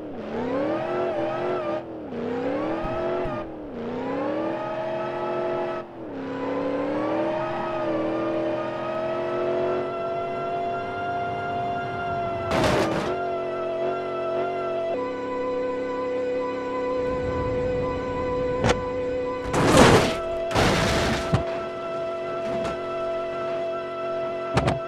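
A car in the BeamNG video game revs and accelerates through repeated gear shifts, then a steady high engine drone, broken later by several sharp crash-like bursts and impacts.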